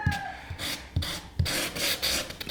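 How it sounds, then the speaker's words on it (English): Rough rasping strokes of hand-sanding a wooden piece for an office and music studio build, several quick back-and-forth rubs close up with no talking. "I'm going to sand it a little bit."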